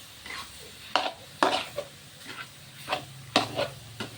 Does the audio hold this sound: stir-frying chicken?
yes